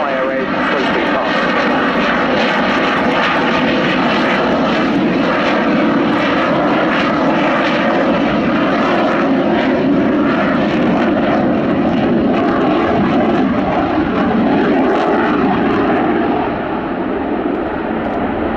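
A French Rafale fighter jet flies an air display, its engine a loud, sustained roar that holds steady throughout, with a commentator talking over it.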